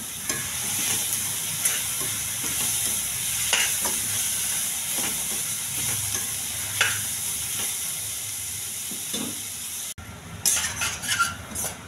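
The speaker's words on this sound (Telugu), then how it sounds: "సొరకాయ ఫ్రై రెడీ అయిపోతుందండి." Bottle gourd pieces frying with coriander powder in a pan, a steady close sizzle with scattered clinks and scrapes of a spoon stirring, ending in a brief clatter.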